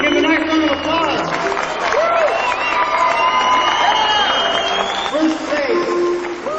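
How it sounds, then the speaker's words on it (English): Crowd at a 1986 monster-making contest awards applauds and cheers loudly, with whoops, shouts and voices woven through the continuous clapping. "Give him a nice round of applause."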